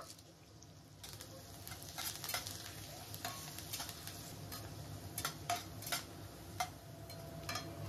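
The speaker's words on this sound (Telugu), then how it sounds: "తాలింపు బాగా ఫ్రై అయ్యింది" Tempering of spices, crushed garlic cloves, onion pieces and curry leaves fries in oil for potato fry, a low steady sizzle with sharp utensil taps and scrapes growing busier as stirring continues.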